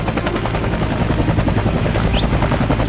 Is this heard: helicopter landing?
yes